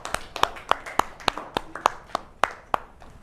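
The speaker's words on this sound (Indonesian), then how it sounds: "Beri tepuk tangan dulu untuk kelompok 4." Applause in a classroom for a presenting group, heard as about a dozen sharp, separate claps in an uneven rhythm, close and fairly faint, fading toward the end.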